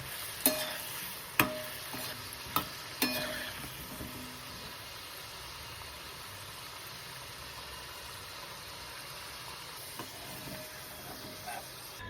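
Green moong fritters fry gently in oil over a low gas flame, producing a soft, continuous sizzle and hiss, with a few sharp clinks and taps near the start, no talking.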